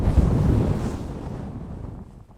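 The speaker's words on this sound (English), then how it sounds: "So it's getting pretty breezy already." Breezy wind gusting across the open Malvern Hills, a loud buffeting rush on the microphone that is strongest at first and eases away over a couple of seconds, with no voices.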